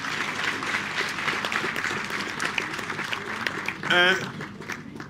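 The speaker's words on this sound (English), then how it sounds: "Let's give a round of applause to all our comrades who gave the inputs." An audience at a popular democracy conference session applauds with dense, steady clapping that lasts throughout, and a voice rises briefly near the end.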